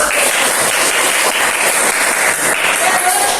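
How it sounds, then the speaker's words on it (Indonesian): Classroom applause from a group of students, a dense steady patter of clapping filling the whole stretch with some voices mixed in. "Oke, tepuk tangan dulu."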